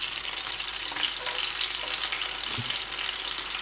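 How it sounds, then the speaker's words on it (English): Shallots and chili flakes frying over medium heat, a steady close crackling sizzle that holds evenly throughout, with one soft stir or knock midway and no talk. "cook over a medium heat for 6 to 8 minutes until the shallots are lightly browned"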